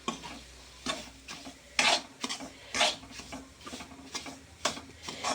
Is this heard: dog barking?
no